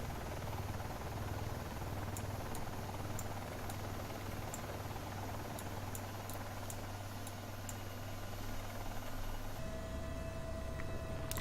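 Dreamfoil AS350 B3 helicopter in X-Plane 11, a steady loud rotor and turbine drone with a low rhythmic thump, punctuated by faint periodic clicks, shifting tone near the end.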